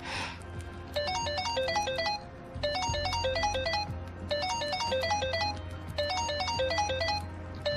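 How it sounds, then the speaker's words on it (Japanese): Phone ringtone in the video game Like a Dragon (Yakuza): a bright, rapid electronic melody repeats in four even bursts over a low steady game hum, with no talking. "星野から電話だ"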